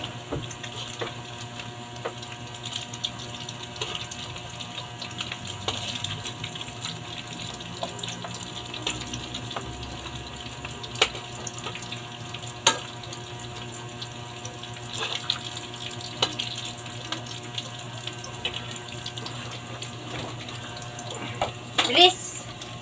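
A kitchen tap runs while dishes are washed in a sink, a low steady flow of water with scattered clinks and knocks of crockery throughout, faint and close, with bits of speech mixed in.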